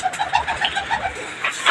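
Pigeons in a loft of prized birds coo in a soft, repeated series of throaty calls, steady and fairly close, with no voices.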